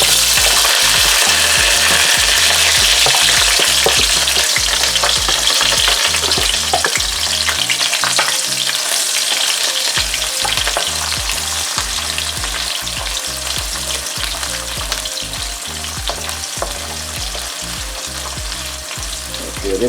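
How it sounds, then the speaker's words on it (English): Onion and garlic fry and sizzle steadily in a pan while being stirred for an ackee and saltfish dish, with rhythmic scraping stir strokes over a constant loud crackle, no talking. "I'll be stirring in some onion and garlic."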